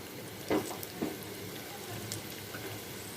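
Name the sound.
vermicelli (semai) frying in a pan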